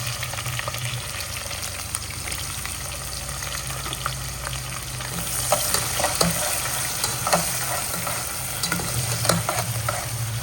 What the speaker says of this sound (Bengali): এখন হচ্ছে বাগার দিচ্ছি বাগার দিয়ে চিকেনটা বসাবো